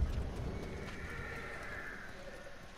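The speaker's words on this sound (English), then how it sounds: "I'm not gonna ride a horse like you to replace Kage." Horse in the Ghost of Tsushima video game, clopping hooves and a whinny, close and fairly loud at first and then fading slightly as a steady rumble, with no talk.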